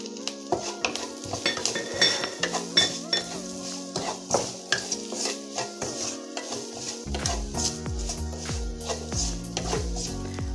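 Banana flower stir-fry with salt and turmeric is stirred in a pan. A utensil clatters and scrapes in a quick rhythm against the pan over a light sizzle, with steady metallic knocks throughout and no speech.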